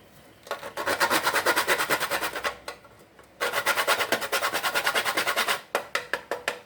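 Whole nutmeg being grated for a coconut and peanut punch, fast rhythmic rasping strokes in bursts with brief pauses, close and fairly loud, with no voices.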